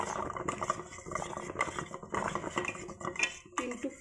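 A metal spoon scrapes and clinks against a pot while stirring a neem leaf soap mixture, a brisk run of close, irregular clattering strokes with short pauses.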